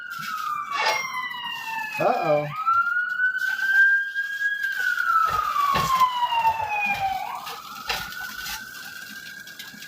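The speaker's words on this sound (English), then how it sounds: "Oh, sirens." Emergency vehicle sirens wail past in long rising and falling sweeps, moderately loud, with a second overlapping tone and traffic rumble beneath, while a person speaks briefly over them.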